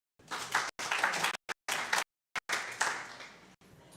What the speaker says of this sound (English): So let us clap for him.